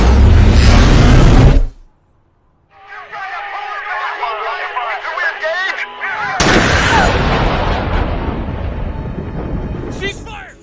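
Soldiers open fire in a film scene: a heavy burst of gunfire, then a quieter stretch, then another loud barrage that fills the rest of the moment.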